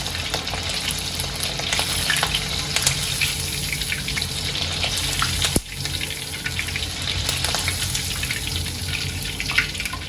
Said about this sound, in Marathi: सर्वात पहिले लसणाला आपण तेलामध्ये चांगलं तळून घेऊया